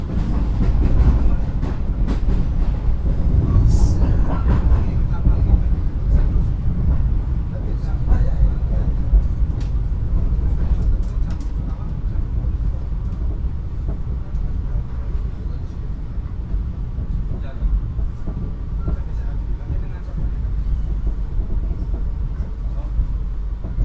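KA Mutiara Timur train arriving at Temuguruh station, a continuous heavy rumble of wheels and carriages that slowly eases off as it slows, heard from inside the train.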